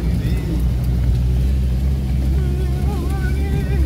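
Inside a 4WD jeep on a badly damaged mountain road, the engine drones loud and steady with a heavy low rumble and road noise, while a faint tonal whine rises near the end.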